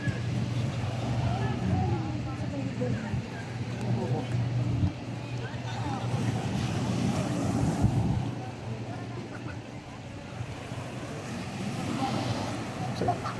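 Rough sea waves at a tropical beach resort on the coast of Bataan, a continuous windy wash of surf rolling in, with people talking over the steady roar.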